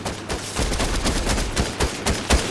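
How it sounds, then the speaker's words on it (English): Rapid bursts of Fortnite gunfire, dense overlapping shots cracking in quick succession, loud and close, with several sharper single reports toward the end. "I shot at him."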